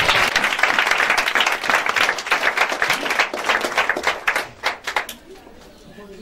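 A church congregation at a Sunday worship service breaks into loud, dense applause and cheering to acclaim Jesus, the clapping sustained for several seconds before thinning into scattered claps and fading out.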